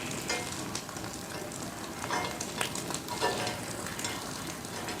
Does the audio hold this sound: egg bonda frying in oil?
yes